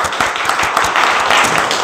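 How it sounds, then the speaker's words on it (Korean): Church congregation claps together during a Korean worship service, a loud, steady burst of many hands close by with an even rapid patter. "우리 하나님께 영광의 박수 올리겠습니다."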